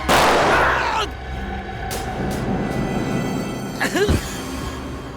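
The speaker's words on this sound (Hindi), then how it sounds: "मैं गोली चला दूंगी।" A single pistol shot in a TV crime drama, a sharp loud crack at the start that decays into a lingering rumble, followed by tense music and a later burst of sound effects.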